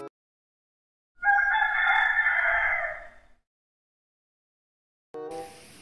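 A chicken on a farm gives one clear drawn-out crow close by, then silence, followed by a short burst of another sound at the end.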